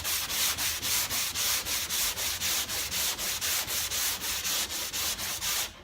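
Hand block sanding of car bodywork filler with 150 grit sandpaper: a steady back-and-forth rasp repeated about seventeen times in an even rhythm, loud and close, with no talking.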